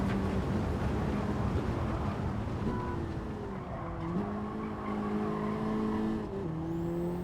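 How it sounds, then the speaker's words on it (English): A race car in Gran Turismo 7 brakes hard into a turn during a Master licence test, its engine note dropping as tires squeal and skid steadily, with no talking. "the car was all over the place on the brakes then"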